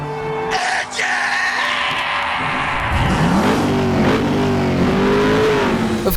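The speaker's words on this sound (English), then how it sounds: "gentlemen, start your engine!" A NASCAR race car engine at the Daytona 500 starts and revs loudly. The roar sweeps up and down in pitch and builds into a sustained, close bellow, with a faint crowd or voice beneath.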